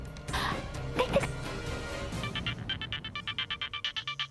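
A telephone ringtone rings in a steady pulsing pattern of repeated bright tones, loud and close, starting after a burst of background music and continuing to the end.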